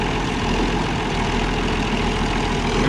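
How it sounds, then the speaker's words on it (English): An Oliver 1600 diesel wide-front tractor runs at a steady idle, a continuous loud low engine rumble that stays even throughout with no voices. "Today I'm using one of the Olivers that hasn't been on here yet, our 1600 diesel,"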